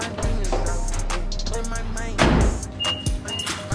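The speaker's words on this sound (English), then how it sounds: "Open the door now." A car door on an Infiniti Q50 is opened, giving a close mechanical clunk and latch sound amid vehicle noise, with people talking nearby.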